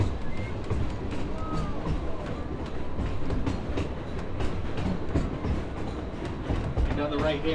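Halloween ride train rolling steadily along its track with a continuous rumble and faint rhythmic clatter, voices talking over it throughout.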